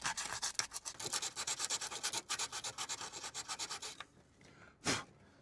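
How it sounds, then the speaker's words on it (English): Rapid back-and-forth sanding strokes rasp against a Maserati GranTurismo's painted bodywork, steady and close for several seconds, then stop, followed by one short final scrape. "I have to do this rather nasty thing of sanding my nice good paint"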